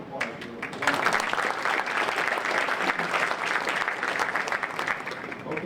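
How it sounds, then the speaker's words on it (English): An event audience breaks into a round of applause, dense clapping that swells after the first second and holds steady and fairly loud, with no speech over it. "a round of applause for it."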